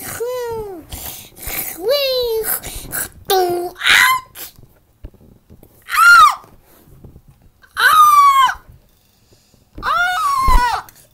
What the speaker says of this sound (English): you scream like a woman.